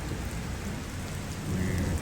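Steady rain pours down on open farmland, a dense, even hiss of drops on the ground with no voices.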